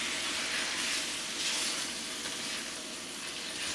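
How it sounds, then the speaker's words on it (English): Italian sausage for chilli fries in a pan with a steady, close sizzling hiss that holds evenly throughout, no voices over it. "Break up your sausage and flip it a little bit"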